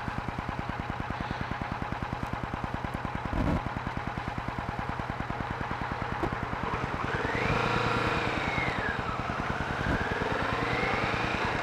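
A new Kawasaki Vulcan S motorcycle engine running steadily with a rapid rhythmic putter, revving higher partway through as the bike rides along, heard close and loud.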